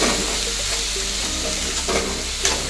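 Sprouted green moong being stir-fried in a pan, giving a loud, continuous close sizzle broken by a few soft stirring scrapes, with no talking.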